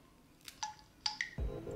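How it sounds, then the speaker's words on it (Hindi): A Ferrari-style feature phone chirps out a quick series of short electronic beeps and tones as it is opened, ending in a lower steady buzzing tone, close and fairly quiet. "अगर हम लोग इसे ओपन करते हैं तो ऐसी आवाज़ करता है।"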